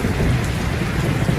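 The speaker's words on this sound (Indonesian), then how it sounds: "hanya terdengar percikan air hujan di atas karport" Steady rain patters on a carport roof at night, a dense, even hiss of drops with a low rumble beneath, constant throughout with no voices.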